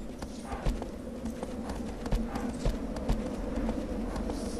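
Horse hooves gallop steadily in Shadow of the Colossus, a continuous rhythmic clip-clop at moderate loudness over a rumbling outdoor game ambience, with no talk.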